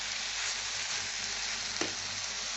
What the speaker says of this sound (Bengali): এটা বেশ আমি কষে নেব ভালো করে।